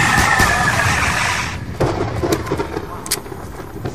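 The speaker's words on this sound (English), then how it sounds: "Oh, I heard a thunderstorm." Thunderstorm ambience in the Tranzit zombies mode of Call of Duty Black Ops 2, a loud broad rumble of thunder with rain that fades after about a second and a half, followed by softer rolling crackles and patter.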